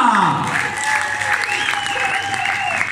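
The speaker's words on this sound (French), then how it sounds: "je vous demande de l'applaudir bien fort" Audience applause for a tribute singer at a live show in Charmes, a loud sustained clapping crowd with a few cheers and a voice over it throughout.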